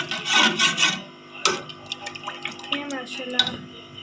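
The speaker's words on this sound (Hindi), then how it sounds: "अब हम अच्छी तरीके से सारी चीज़ों को मिक्स कर लेंगे।" Black chickpea curry ingredients being stirred in a pot after water is added, giving soft wet rubbing and scraping strokes with occasional clinks of the spoon against the sides.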